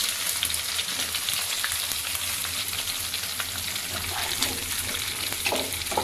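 Sliced onions fry in oil in a kadai for a tilapia fish curry, giving a constant, close sizzle for several seconds with occasional stirring scrapes and a watery crackle.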